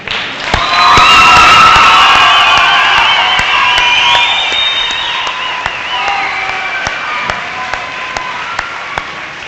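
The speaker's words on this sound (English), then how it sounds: "we're going to give you a round of applause" Loud round of applause with cheering and whoops from a crowd at a summer graduation ceremony for an alternative school program, swelling quickly then gradually tapering off over several seconds.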